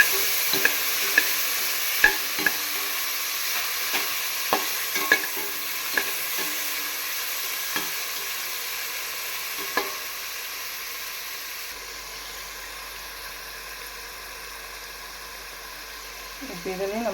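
Onions and tomatoes sauté in a large pan for sambar rice, with a steady sizzle under repeated sharp spatula taps and scrapes that fade into a quieter hiss near the end.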